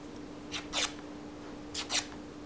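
Scissors drawn along a folded paper crease to break down the fibers make two quiet paired scraping strokes a moment apart, close up, over a faint steady hum.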